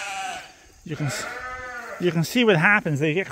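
Sheep kept indoors on a farm bleat several times in wavering calls, close and loud, with someone talking over and between them.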